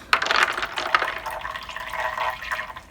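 Purple marble-like rocks dropped by hand into the water of a small betta fish tank, several splashy plops and clinks in quick succession, then a softer trickle and slosh as the water settles.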